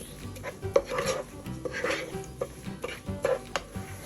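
Soft sizzling of onions sautéing in oil in a pan, punctuated by repeated scrapes and clinks of a utensil stirring against the pan.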